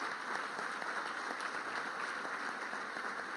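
An audience at a Detroit Economic Club debate between Senate candidates Debbie Stabenow and John James claps steadily, a dense, even wash of many hands heard from within the hall.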